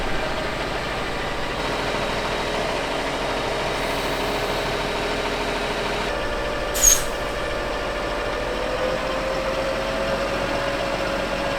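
A tractor running a slurry silo mixer off its PTO at 1000 RPM, giving a steady, even mechanical drone of engine and driveline that holds constant throughout, with one brief sharp tick partway through.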